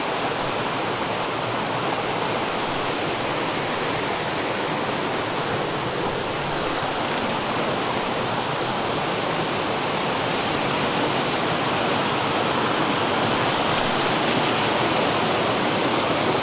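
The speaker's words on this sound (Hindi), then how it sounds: "ये है वाटरफॉल बड़ घाघरा का" The Bada Ghagara waterfall in Keonjhar roars with a loud, steady, broadband rush of falling water that stays unbroken and close throughout, with no voices.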